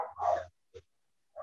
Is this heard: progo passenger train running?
no